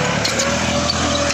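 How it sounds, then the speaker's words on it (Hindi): A New Holland 3032 35 hp tractor running in first gear high, its engine a steady, fairly loud drone with a constant hum, continuous and unbroken with no voices over it. "अब ये ट्रैक्टर पहले के हाई में चल रहा"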